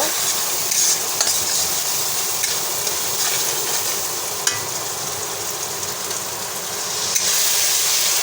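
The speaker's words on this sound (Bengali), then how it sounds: "এখানে সামান্য হলুদ দিয়ে দিলাম ভালোভাবে মশলাটা আমি কষিয়ে নেব" Spice masala with turmeric frying in a pan for fish balls, a steady close sizzle with occasional scrapes of stirring, no voices.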